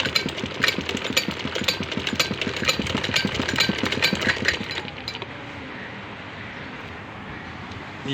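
Sewing machine stitching a test piece of cloth while its stitch is being adjusted, a fast rattling mechanical run for about five seconds before settling to a quieter steady hum, close with no talk.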